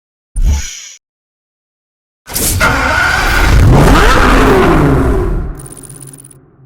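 A Pagani Zonda Cinque supercar engine in a Need for Speed racing game: a short burst of revving, a pause, then a loud sustained roar as it accelerates and climbs through the revs, close and dominant, easing off at the end.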